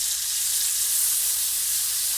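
Carrots and onion sizzle in butter and fat in a pan, a steady, bright frying hiss that stays even and close throughout, alone with no voices.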